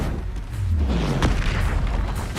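Confringo spell blast in Hogwarts Legacy: a deep booming explosion with a low rumble that swells and fades, and a sharp crack partway through, loud and close with no speech.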